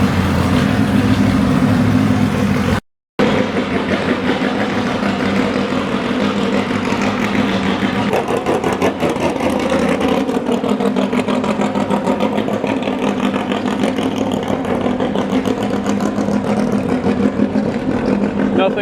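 A Ford GT40 race car engine runs loud and steady at an auction, a continuous mechanical drone with a brief dropout near the start and voices mixed in underneath.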